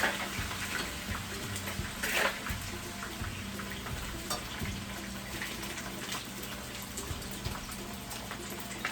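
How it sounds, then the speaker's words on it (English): Yam fries in hot oil with a steady bubbling sizzle and occasional louder crackles, close and continuous, with no voices. "So I'm just going to let it sit there and fry."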